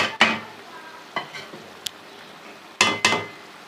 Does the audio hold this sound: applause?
no